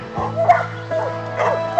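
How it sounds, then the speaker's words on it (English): A duck tolling retriever on a dock yips and whines in short, excited bursts, three clustered outbursts with a steady low hum in the background. "what's really a treat is the noise that this little dog can generate"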